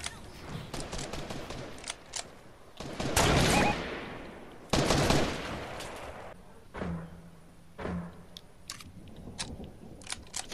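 Gunfire in a multiplayer shooter game played in duos, with a couple of loud bursts amid scattered quieter shots and clicks, fairly distant and fading into sparse pops.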